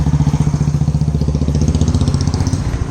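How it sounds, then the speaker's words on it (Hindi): Loud, close thumping exhaust of a single-cylinder Royal Enfield Bullet motorcycle, a rhythmic steady thud-thud beat throughout with no talking. "देखिए एक बुलेट और आ रही है, इसका साइलेंसर सुनिए"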